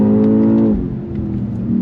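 A 2025 BMW X6 M Competition SUV launches hard under launch control, its engine note loud and close, rising in a strong roar before dropping as it shifts and pulls onward.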